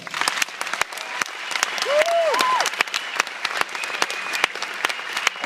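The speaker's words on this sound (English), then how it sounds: "give him a round of applause" An audience applauds at a concert, dense steady clapping from a crowd with a few sharper claps standing out and a brief whoop or whistle rising partway through.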